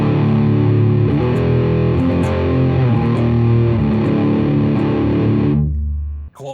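Electric guitar driven through a Marshall DSL pedal with its tone control turned fully down, giving a dark, fuzzy, doomy distorted tone; loud sustained chords and riffs ring continuously for about five and a half seconds, then cut off into silence.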